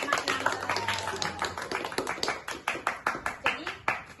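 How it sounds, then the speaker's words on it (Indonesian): A small group claps for a participant during a group counseling session, uneven distinct hand claps with a loose rhythm, fairly close and clear, with a brief voice underneath at the start. "Dan kita kasih tepuk tangan buat Mas Nahal."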